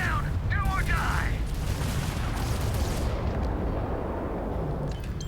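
Ship turrets auto-firing during a space battle in the game Starfield make a dense, continuous barrage of booming gunfire, loud and steady throughout, with a few brief warbling electronic tones near the start.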